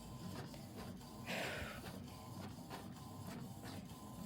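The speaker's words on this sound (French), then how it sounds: "je force un peu l'imprimante à aller au-delà de ses capacités" An inkjet printer straining to feed thick 300 g paper, a faint series of rhythmic mechanical clicks and whirs with a brief louder grinding swell partway through, heard alone at close range.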